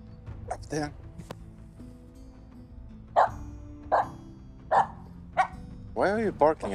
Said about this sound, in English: Why are you barking at the woodpecker, Aamu?